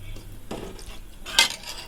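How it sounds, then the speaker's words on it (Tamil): A spoon scrapes and clinks against a cooking pot as coconut milk is stirred for coconut milk rice, with a few short metallic knocks and light liquid movement, close and fairly quiet. "ஊற்றி நல்லா அப்படியே கிண்டி விடுங்க."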